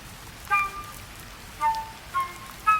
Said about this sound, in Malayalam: ദേ നല്ല മഴ വരുന്നുണ്ട്